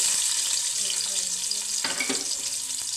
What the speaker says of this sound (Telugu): ఇదిగోండి వేగిపోయి ఇందులో ఉల్లిపాయ ముక్కలు వేస్తాం